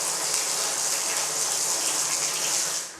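Water gushes steadily from a luxury tap with colour lighting for water temperature, in a Côte d'Azur luxury residence, a loud, close, continuous hiss that eases slightly at the end.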